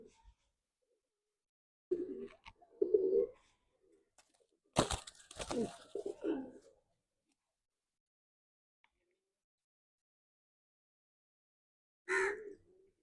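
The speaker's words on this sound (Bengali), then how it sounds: "এটা কালদমা পায়রা।" A kaldama pigeon coos in a few short, low bursts separated by quiet pauses, with one last brief call near the end.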